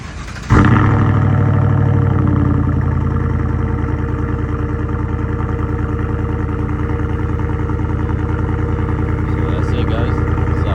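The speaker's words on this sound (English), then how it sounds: "I'll be doing a cold start just so y'all can hear how it looks" A 2023 Chevy Silverado with a Carven Type R muffler delete cold-starts with a sharp crank and catch, then settles into a loud, deep, rumbling idle that stays steady and close for the rest of the clip.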